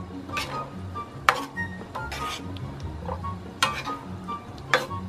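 Shrimp and vegetables simmer in coconut milk in a pot, a soft steady bubbling and sizzle with a few sharp clinks of a utensil against the pan, fairly quiet and close, no talking.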